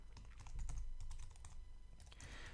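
Code is typed on a computer keyboard in a quick burst of close, soft key clicks, followed by a brief pause and a few more taps.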